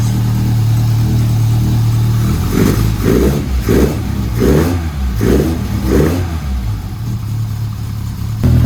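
A cold Lotus Elan engine on worn-out spark plugs idles with a low burble, then revs through about six quick throttle blips in a row before settling back to idle, close and loud.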